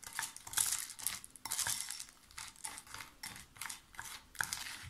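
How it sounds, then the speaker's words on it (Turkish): Dry corn flakes are poured and stirred into slightly cooled melted chocolate in a pot, giving close, crisp rustling crunches in irregular bursts with faint scraping, with no voices. "Hafif soğumuş olan çikolatamın üzerine şöyle göz kararı mısır gevreği ekliyorum."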